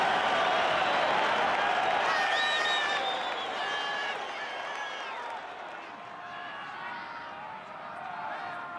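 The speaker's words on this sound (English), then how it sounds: "The crowd are out of their chairs." Stadium crowd at the 1990 Currie Cup Final between Northern Transvaal and Natal roars and cheers after a drop goal, a dense sustained wall of noise that eases slightly midway and then swells again.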